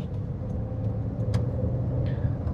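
Suzuki Karimun Wagon R car with a manual gearbox, heard from inside while driving in city traffic: a steady low engine hum and road rumble, with a few faint ticks over it and no talk.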